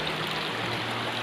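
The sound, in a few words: flowing stream water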